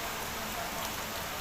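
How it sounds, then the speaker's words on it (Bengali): Steady rain falls in a dense, even hiss that continues without a break, with no voices over it. "আজকে বৃষ্টি থামবো না"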